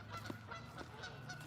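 Honking birds, likely geese, call outdoors over a vegetable garden, repeated faint honks in a steady rhythm over a constant background hum.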